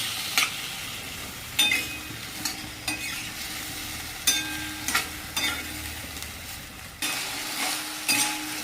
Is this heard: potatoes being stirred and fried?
yes